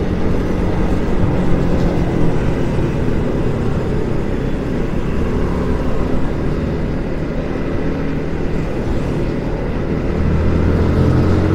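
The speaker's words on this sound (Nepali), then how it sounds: "अब चाहिँ यो बाइकको साउन्ड चाहिँ चेक गरौँ है त।" A Yamaha MT-15 motorcycle runs on the road with a steady, loud engine rumble blended with heavy wind roar throughout.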